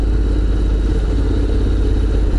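A Honda X-ADV 750 scooter on the move in Malaysia, its engine a loud, steady low drone with rough mechanical clatter and wind rumble, close and continuous.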